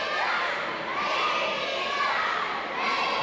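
A wrestling crowd at an AMW-TV show shouts and cheers loudly and continuously, a dense wash of many voices with rising swells of yelling.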